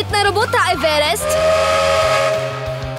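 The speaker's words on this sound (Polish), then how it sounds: "Nadjeżdża pociąg!" Cartoon steam train whistle blowing as the train approaches on a snowy track, a loud, sustained tone over busy music and voices.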